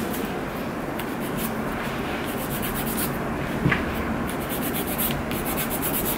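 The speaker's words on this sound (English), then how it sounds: "buff out your nails a little bit" Fingernails are buffed before a gel manicure with tips, a continuous close scratchy rubbing with quick repeated strokes throughout.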